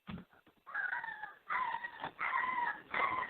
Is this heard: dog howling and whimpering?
yes